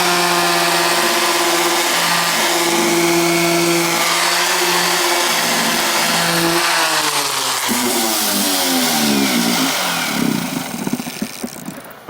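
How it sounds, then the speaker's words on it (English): Power sander fitted with coarse 60 grit paper grinding paint off an IKEA Lack table, a loud, steady motor drone and abrasive roar that shifts in pitch as pressure changes, then tapers off near the end, with no speech. "I'm using my sander with really rough 60 grit paper to tear through this paint"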